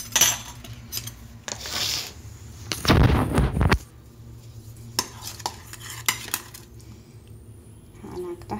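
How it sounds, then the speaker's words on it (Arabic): Dry ingredients for savoury biscuit dough, including flour, salt and yeast, being mixed by hand in a bowl, with scattered scrapes and taps and one louder rough burst of stirring partway through, set against quiet room noise. "دابا غنجي نخلط هاد العناصر هادو"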